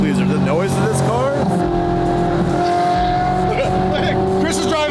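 Loud, close engine of a Ferrari 458 GT3 widebody race car at an event, its pitch swooping up and down through shifts, with excited voices and background crowd noise.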